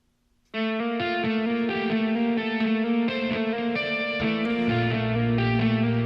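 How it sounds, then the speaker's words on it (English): Effects-heavy electric guitar plays the rapid tapped opening riff of a song, ringing notes alone and fairly loud. "Comes in with tapping on the guitar."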